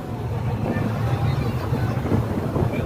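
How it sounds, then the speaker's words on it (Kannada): Strong sea wind blows in at Vivekananda Rock, buffeting the microphone with a continuous rushing roar and no clear pauses. "ಗಾಳಿ ನೋಡಿ ಯಾವ ಥರ ಬರ್ತಿದೆ ಸಮುದ್ರದಿಂದ"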